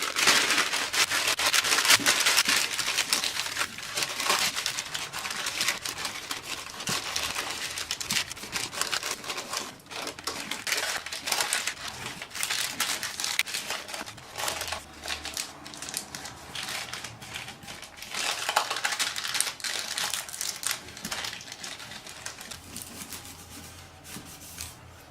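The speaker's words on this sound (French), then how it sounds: "on beurre le moule et on y place la feuille de papier sulfurisé" Sheets of parchment paper crinkle and rustle as they are pressed into a buttered brioche mould, with close, irregular crackles and rubbing that keep going in bursts.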